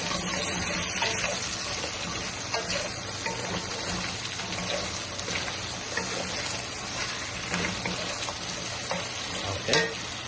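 Potatoes frying in a pan, a dense continuous sizzle and crackle held steady throughout, close and moderately loud with no talk over it.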